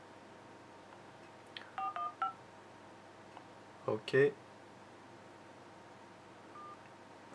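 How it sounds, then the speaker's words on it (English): Dialing tones on a Galaxy S4 running Android 5.1.1 as a call is placed: a few quick beeps, a pause, then a louder cluster of tones, with a short spoken word nearby in a quiet room. "Let's make a phone call."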